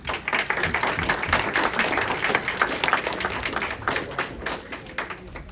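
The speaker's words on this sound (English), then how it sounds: "please offer a warm welcome and round of applause for our students as they come up" An audience at a school board meeting claps to welcome students forward, a full, steady round of applause that holds strong and then thins out toward the end.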